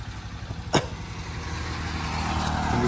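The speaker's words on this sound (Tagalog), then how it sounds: "Yan yung motor." A motor, with a compressor nearby, runs steadily at a painting job on a house, giving a continuous low engine drone with a brief sharp click partway through and no talk.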